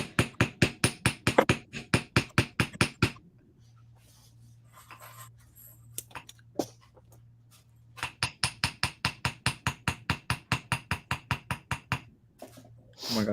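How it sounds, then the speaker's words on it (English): Metal hammer tapping jewelry wire to shape it for a beaded bracelet: two bursts of steady, rapid, sharp close strikes, about a dozen each, separated by a quiet pause with a faint hum. "Ooh, hammer time."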